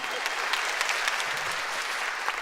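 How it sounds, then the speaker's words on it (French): Audience applause for a young child in costume at a televised kids' show, a brief burst of dense clapping heard throughout. "Ça s'applaudit, s'il vous plaît."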